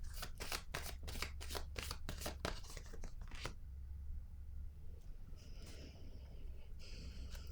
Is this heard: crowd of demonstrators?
no